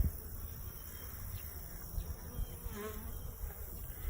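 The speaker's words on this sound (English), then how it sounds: "Try not to squish any bees." Honey bees hum and buzz in a steady, close, low drone around an open hive, with individual insects briefly passing near.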